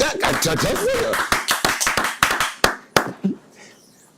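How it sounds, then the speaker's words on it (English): A small group clapping outdoors under a gazebo, sharp, separate claps in a loose rhythm that thin out and stop near the end, with a voice talking over the first part. "Oh boy, 2 rounds of applause for that"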